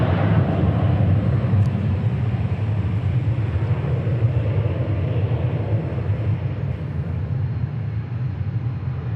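An American airliner taking off in Dallas, a steady loud jet roar that rumbles deep and slowly eases as it continues, with no talking.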